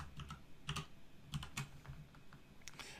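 Keys on a computer keyboard are tapped in short, irregular bursts, close and fairly quiet, with brief pauses between the strokes as text is typed in capital letters.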